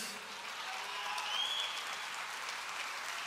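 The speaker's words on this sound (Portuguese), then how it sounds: "Aplauda mais forte." A church congregation applauds during a sermon, a soft, even, continuous patter of many hands heard from some distance, fairly faint and without distinct individual claps.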